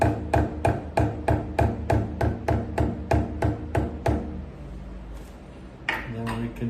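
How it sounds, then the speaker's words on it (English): A mallet taps a machine vise while slide blocks for a steam engine are set up: about a dozen sharp, evenly spaced ringing knocks, close and loud, then a pause and a final rustle. "with the mallet, address the vise from this side and move it to the 0 mark."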